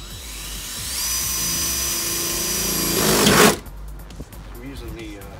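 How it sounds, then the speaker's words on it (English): A high-pitched drill whines steadily for a few seconds while drilling a pilot hole for a blade in a cargo trailer wall, rising in strain before stopping abruptly, leaving quiet room noise behind. "we're gonna drill a pilot hole"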